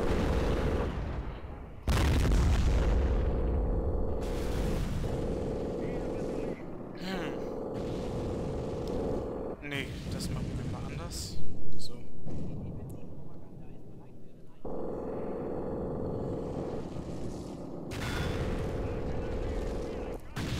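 Artillery fire in Company of Heroes with the Blitzkrieg mod, an 88 gun returning fire: heavy booming shots and blasts recur across a rumbling battlefield, with someone talking over much of it.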